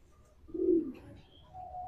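A single soft coo from a racing pigeon, low and brief, heard close in an otherwise quiet moment.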